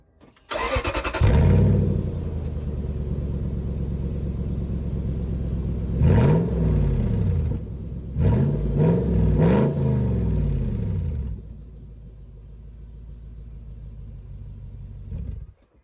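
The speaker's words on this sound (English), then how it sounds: "I guess we can get a little sound clip of the car without the muffler" A Lexus GX470 with a Magnaflow exhaust, Doug Thorley headers and no muffler starts up and idles in a driveway, then gives several loud, throaty revs in quick bursts before settling back to a lower idle.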